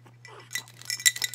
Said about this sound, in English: Shake your rattle.